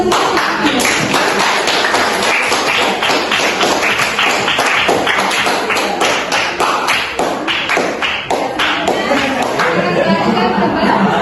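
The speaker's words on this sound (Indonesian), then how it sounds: "Semua hasilnya ya, tepuk tangan." A class claps hands loudly and close by, continuous sharp claps with some chatter and laughter underneath, the clapping thinning toward the end.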